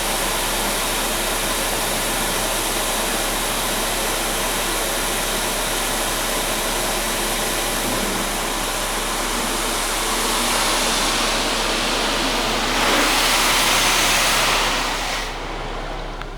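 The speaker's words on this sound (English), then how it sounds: "Now we're getting our clear coat sealant." Automatic car wash spraying clear coat sealant: steady loud hiss of spray nozzles filling the space, swelling briefly near the end before easing off.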